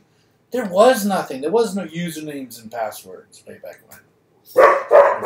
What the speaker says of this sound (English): Sorry if you hear a dog bark in the background.